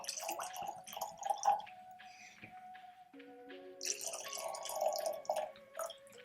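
Teacher's Highland Cream whisky pours from a bottle into a glass in a quiet room, a soft gurgling trickle with glugging bursts and rising pitch as the glass fills, faint and close.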